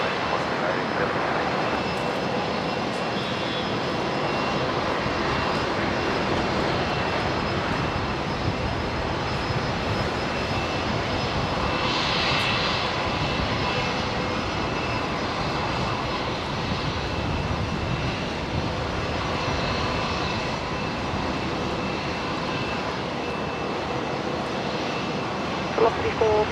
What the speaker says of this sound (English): Qantas 1873, wind 120 degrees 10, runway 19 right, clear for takeoff.